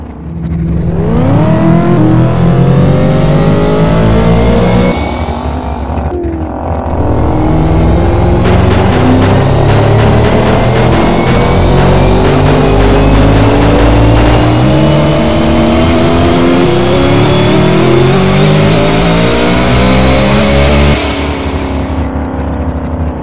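Loud, sustained engine roar of a no-prep Camaro drag car at full throttle in the racing game Doorslammers 2, rising through gear shifts and holding high revs in top gear down the quarter mile.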